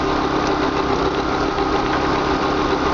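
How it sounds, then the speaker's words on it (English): Small gas generator running on a 72V 3000W hybrid ebike, a steady close mechanical engine drone with a knocking buzz, constant throughout with no talking. "It feels like the generator got a little bit louder."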